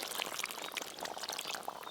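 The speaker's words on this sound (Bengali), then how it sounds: "এবার নারকেলের দুধটা দিয়ে দেবো।" Coconut milk poured into a simmering pot of potato curry, heard as a faint, steady liquid pour with soft bubbling that runs without a break for about two seconds.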